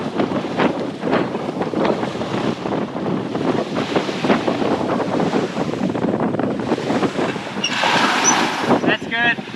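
Strong wind rushes and buffets steadily on a sailboat sailing hard to windward offshore, with waves and hull noise underneath and someone talking over the gusts.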